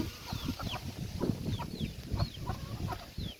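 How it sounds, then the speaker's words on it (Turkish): Several chickens cluck and chirp close by in quick, irregular bursts, with small high peeps scattered throughout. "Şöyle tavuklarımızı çekelim."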